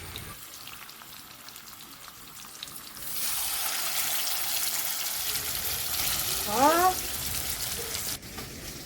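Spice-coated fish dropped into a hot pan bursts into a loud, steady sizzle that continues close by, with a brief scrape or clatter of a utensil midway.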